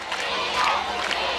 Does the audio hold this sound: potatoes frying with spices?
no